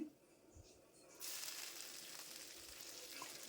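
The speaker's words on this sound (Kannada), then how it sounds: "ತೊಂಡೆಕಾಯಿನ ಎಣ್ಣೆಯಲ್ಲೇ ಚೆನ್ನಾಗಿ ಫ್ರೈ ಮಾಡ್ಕೊಳ್ಬೇಕು" Chopped ivy gourd fries in oil with garlic in a pan, a faint steady sizzle that swells suddenly partway through and then holds as a continuous hiss with light stirring.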